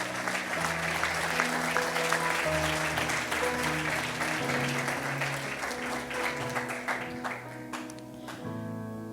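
Church congregation applauding loudly and steadily throughout, with music playing underneath.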